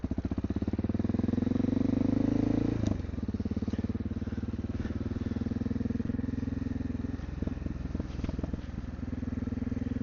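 A Honda XR650L motorcycle engine runs steadily while riding in the Ozarks, a loud close thumping drone that dips briefly near three seconds and again around seven to eight seconds before settling back into its even rhythm.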